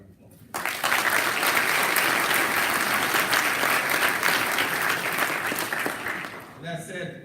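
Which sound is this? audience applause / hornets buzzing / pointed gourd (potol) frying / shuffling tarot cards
audience applause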